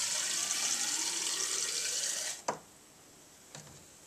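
Isopropyl alcohol carrying UV-cured resin residue is poured in a steady, close liquid stream for about two seconds, then it stops abruptly with a sharp splash and a smaller clink afterwards.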